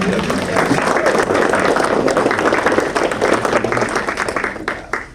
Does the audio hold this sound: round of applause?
yes